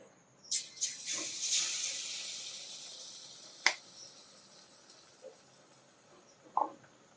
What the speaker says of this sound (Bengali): আমি একসঙ্গে দুটো দিয়ে ভেজে নেব।